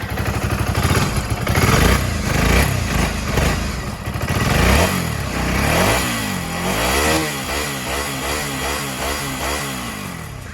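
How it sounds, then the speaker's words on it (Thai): Motorcycle with an L-twin engine, its cylinders set at nearly ninety degrees, running loud and close. It idles with a lumpy, throbbing beat and rises into several revs before settling back, with nothing else over it. "เดี๋ยวฟังเสียงเครื่องยนต์ครับ"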